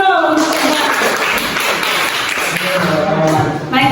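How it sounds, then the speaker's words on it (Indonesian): Students clap in a classroom after a short presentation on biodiversity, a brief burst of applause mixed with chatter before a teacher's voice resumes. "Tepuk tangan dulu."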